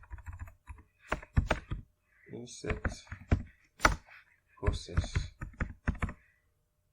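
Code is typed on a computer keyboard, with bursts of crisp key clicks and heavier thunks at close range, heard under someone talking nearly throughout.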